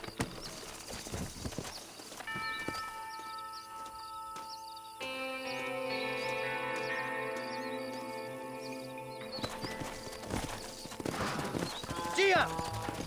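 Horse hooves clip-clop in Red Dead Redemption Remastered, a steady trotting patter under game music with a spoken voice and a brief whinny-like call near the end.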